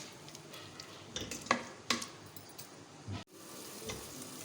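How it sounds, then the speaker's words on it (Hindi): Tomatoes softening in a pan for tikka boti masala give a low, steady sizzle, and a spoon scrapes and taps the pan a few times. No one speaks. "टमाटर को हमें इतना कुक करना है बस ये नरम हो जाए"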